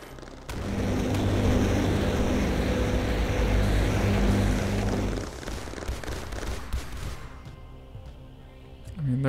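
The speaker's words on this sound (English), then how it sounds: "bombers are intense in this area" Bomber aircraft attack in the video game Mindustry: a loud, dense roar of engines and explosions holds steady for several seconds, then breaks into scattered bursts and thinner blasts before fading out near the end.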